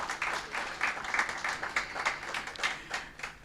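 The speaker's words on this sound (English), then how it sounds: "you all deserve a round of applause" An audience gives a round of applause, a moderate patter of individual claps with uneven rhythm, some hands louder and closer than others.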